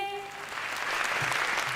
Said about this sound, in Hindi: गीत खत्म हुआ, तालियां बजाइए।